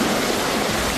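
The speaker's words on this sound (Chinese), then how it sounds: "停车场车道变成瀑布" Muddy floodwater from heavy rain pours down the ramp of an underground parking garage, a loud, steady, close rushing roar like a waterfall, with no voices.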